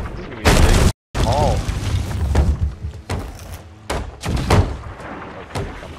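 Cannons fire during a pirate ship battle in the video game Sea of Thieves, with heavy booms and thuds at irregular intervals while players talk over them.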